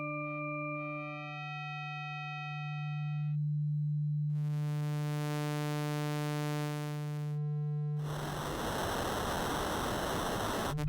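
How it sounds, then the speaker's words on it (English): An ALM Busy Circuits MCO eurorack oscillator moves through steady buzzing tones, then drops into a harsh burst of digital noise that hisses on to the end. "Get some digital noise at the end there."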